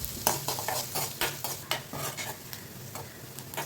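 Onions sauté in hot oil in a kadai with mustard seeds, fennel and curry leaves. A close, lively sizzle runs under repeated scraping strokes of a spoon against the pan.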